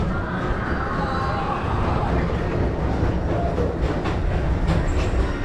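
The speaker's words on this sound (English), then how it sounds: "your express train keeps on rolling through the future" The Disney People Mover, the Tomorrowland Transit Authority, rolls along its elevated track with a steady, loud rumble and faint clicking, continuous throughout, with a narrator talking over it.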